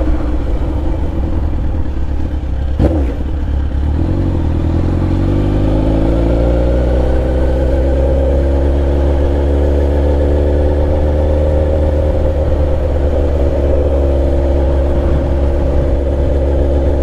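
A Suzuki SRAD 1000 motorcycle engine drones steadily, its pitch rising and then holding as it revs, loud and close, with a brief knock near the start.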